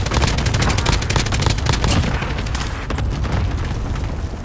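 Airstrike explosions in the video game Warzone, a dense continuous barrage of booming blasts and rapid crackling impacts that stays loud throughout with no pauses.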